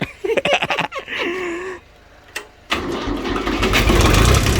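An old imported L22 tractor engine cranks with a few sputtering turns, pauses, then catches and runs with a loud, steady mid-pitched rumble close by.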